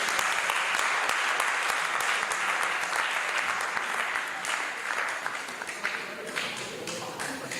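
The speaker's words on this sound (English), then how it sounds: "Can we give him a sound round of applause?" Audience applause at a court of appeal induction course, a sustained wash of many hands clapping that gradually thins out, with some voices audible underneath.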